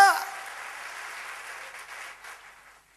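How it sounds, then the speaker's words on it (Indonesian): Church congregation clapping in praise to God, a burst of applause that starts loud and gradually fades over a few seconds. "Tepuk tangan bagi Allah kita."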